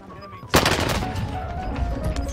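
Gunfire in Call of Duty on Rebirth Island, a sudden loud burst of rapid automatic shots that rattles on for about two seconds.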